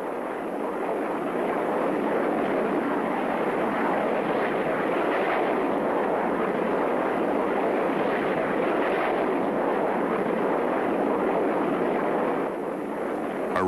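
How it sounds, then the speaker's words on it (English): Salvos of supersonic rockets are fired from Soviet attack aircraft during dive attacks, giving a loud, continuous roaring rush of blast and engine noise that holds steady throughout. "taking careful aim, fire their salvos of supersonic rockets"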